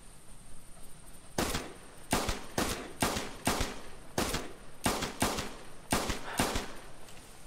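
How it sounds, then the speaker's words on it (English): Rapid shots from a .22 Grasshopper pistol fired at targets in the hunting game theHunter, about ten sharp, evenly spaced cracks over several seconds, loud and close with no talk. "There's very little recoil on this gun, as you'll see as I shoot the target."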